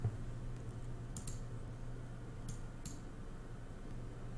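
Typing on a computer keyboard at a desk, a few soft, close key clicks spread sparsely over quiet background hum, with no voices.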